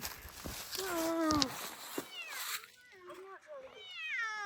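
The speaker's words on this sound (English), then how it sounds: "Some of these cats are mean." A mean, trapped cat, caught on a trap line, yowls and meows in long rising and falling wails, loud and close, with a brief pause before the cries resume. A person speaks around the cries.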